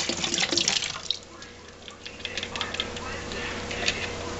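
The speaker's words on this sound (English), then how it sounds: "Then I'm gonna rinse it out with some water and put some water in there." Tap water runs and splashes while rinsing lemon residue out of a sanitized homebrew fermenter, a steady broadband wash with drips, louder at first and then continuing at moderate level, with no talking.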